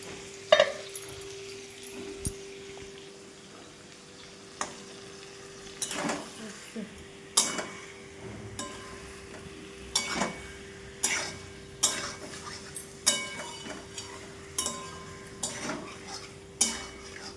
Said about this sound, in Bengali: মাছের জন্য আলু কষছে